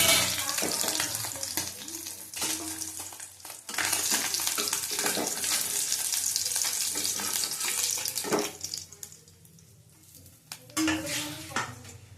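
Pabda fish fry in a covered pan, with loud steady spattering and popping oil, clanks of pots and utensils, and a brief quieter stretch before the sizzle returns.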